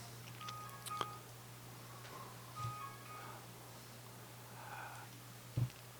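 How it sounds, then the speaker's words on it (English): A mobile phone sounds with a few short electronic tones over a steady low hum in a quiet room, fairly faint with small clicks scattered through. "Sorry, my phone just went off."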